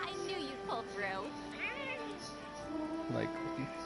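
A cat companion in the video game Monster Hunter World meows several times in rising and falling calls, close and clear over a steady hum of game sound, with voices around it.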